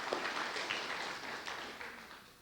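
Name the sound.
audience applause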